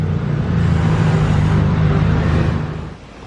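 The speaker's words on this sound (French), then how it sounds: "Et le retour de Charles Leclerc avec la Ferrari Roma." Ferrari Roma driven by Charles Leclerc rolling past, a loud, steady low engine rumble that holds for about three seconds before easing off as it moves away.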